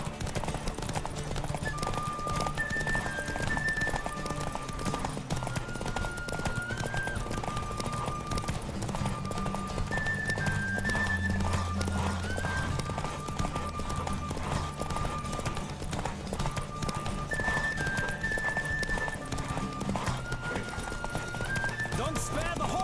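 A horse galloping in a race in The Witcher 3 video game, a steady pounding of hoofbeats under continuous music and background sound, with voices partly audible.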